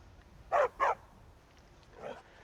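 A dog companion in the Skyrim video game, added by the Useful Dogs mod, gives two quick sharp barks close by, then a softer muffled bark a moment later against quiet background.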